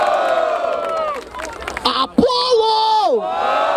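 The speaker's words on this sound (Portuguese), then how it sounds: "Barulho para as rimas da Nath" A loud crowd at a Brazilian freestyle rap battle in Barueri erupts in cheers, whoops and shouting, dense and close throughout, with a host's voice cutting through the roar.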